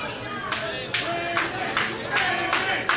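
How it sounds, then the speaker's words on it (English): At a wrestling match, the arena crowd chants in a split rhythm, with regular bursts of clapping and shouting about every half second and a commentator's voice running over the top. "As you hear some of this crowd chanting for Brandon, the other half chanting for the champ"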